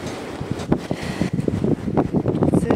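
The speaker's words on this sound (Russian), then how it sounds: "Целый день сегодня такой ветер дует." A strong, steady wind blows outdoors on a cold, icy, sunless day, roaring and buffeting close against the microphone in uneven gusts.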